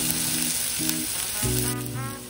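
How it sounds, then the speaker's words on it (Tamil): Okra frying in hot oil gives a steady, close sizzle throughout, with brief clinks and stirring sounds over the crackle and no voices. "இப்போ நான் ஆயிலில் வெண்டைக்காயை நல்லா ஃப்ரை பண்ணுவோம்"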